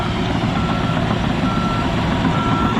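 Dirt-hauling truck working with a sheepsfoot roller to compact fill on a dry lakebed, engine droning steadily while a reversing alarm beeps in a continuous, regular pattern, close and loud.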